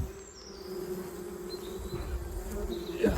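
A colony of honeybees, relocated from an attic into a hive, gives off a close, steady buzzing hum, with individual wingbeats rising and fading over the continuous drone.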